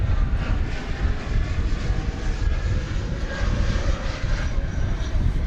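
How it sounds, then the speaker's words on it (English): A Delta Airbus A319 arriving from Los Angeles at DFW Airport gives off a steady background jet roar, broad and rumbling, fairly faint and continuous from start to finish. "in the background is a Delta Airbus A319 coming in from Los Angeles"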